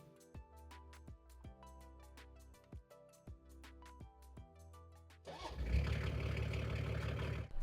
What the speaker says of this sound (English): I fired the cruiser up, turned the lights on, and gave the engine a bit of diesel.